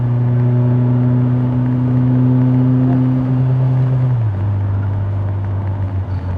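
BMW M3 E30 Sport Evolution engine holding a steady, loud drone that drops in pitch around the four-second mark, a continuous close mechanical hum with no voices.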